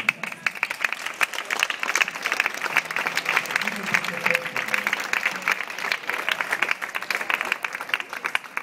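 Sustained applause from an audience, dense clapping throughout with a murmur of voices underneath.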